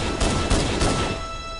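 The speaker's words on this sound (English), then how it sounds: "Oh, no, I'm being shot at." A short volley of gunfire aimed at the player in Halo CE, three or four quick loud cracks over ambient game noise.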